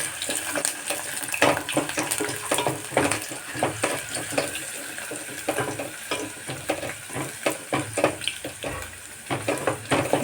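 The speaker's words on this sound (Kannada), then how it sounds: "ಇವಾಗ ನಾವು ಎಣ್ಣೆಗೆ ಸ್ವಲ್ಪ ಈರುಳ್ಳಿನ ಹಾಕ್ತಾ ಇದ್ದೀವಿ" Onions dropped into hot oil in a pan fry with a steady, close crackling sizzle and irregular bursts of spatter, with no voices.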